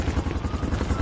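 A nearby helicopter gives a loud, steady, rapid thumping of rotor blades over a low engine roar, continuous throughout.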